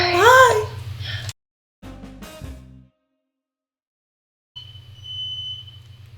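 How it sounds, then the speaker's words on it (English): A household smoke detector chirps and beeps in short repeated bursts, set off by too much burning sage, with an electronic tone that comes and goes between stretches of silence. "I think that's our fire alarm."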